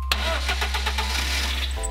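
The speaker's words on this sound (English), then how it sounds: "Then turn on the engine," A BMW E36 engine cranks briefly and catches, settling into a steady idle at close range, heard alone with no talking.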